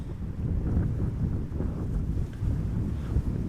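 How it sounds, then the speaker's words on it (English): Strong crosswind at Amsterdam Schiphol Airport, a constant low rumbling buffet against the microphone that swells and dips slightly, loud and close, with no voices. "Wind has slowed down a little bit."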